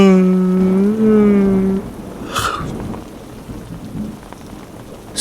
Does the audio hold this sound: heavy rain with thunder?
yes